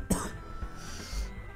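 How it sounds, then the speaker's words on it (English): A single short cough comes from a person close to the mic, with a quieter breathy throat sound after it over steady background noise. "Oh god, I need a cough."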